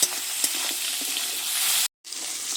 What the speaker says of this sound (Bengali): লবণ হলুদটা দিয়ে চিংড়ি মাছটা ভেজে নিচ্ছি।